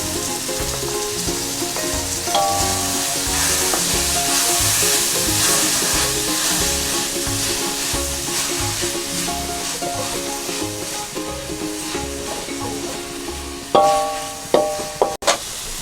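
Chopped tomatoes and onion saute in a hot pan with a steady close sizzle and hiss, a low musical tone running beneath and a few sharp stirring clanks near the end.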